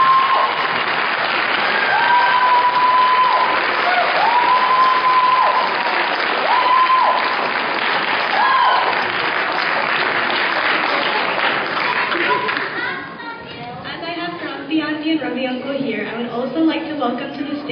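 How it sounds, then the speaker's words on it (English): Sustained audience applause fills a hall at a Bharatanatyam-style dance debut (Rangapravesam), loud and dense for about twelve seconds before thinning, with a voice speaking over the clapping throughout. "Can we all give a big round of applause to our guru, Sarita?"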